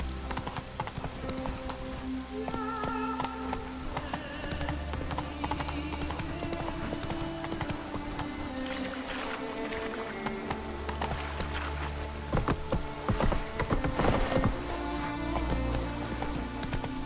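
Roach, the horse in The Witcher 3, gallops with rapid, rolling hoofbeats that run continuously for a long stretch, close and fairly loud, over an ambient game background, with occasional louder bursts near the end.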